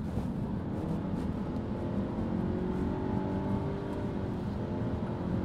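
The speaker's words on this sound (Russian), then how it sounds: "Когда ты нажимаешь в пол, поднимаются обороты, и более ничего не происходит. То есть машина орет и плавненько-плавненько набирает скорость." A 2019 Nissan X-Trail with a CVT transmission drones loudly at full throttle, its engine holding high revs in a steady continuous roar that rises only slightly.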